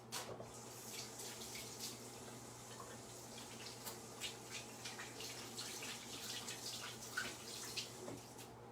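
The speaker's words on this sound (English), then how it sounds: "I'll go and wash up my hands." A kitchen tap runs steadily as hands are washed at the sink, a close, continuous hiss and splash of water with small splatter variations and no voices, while bacon cooks nearby.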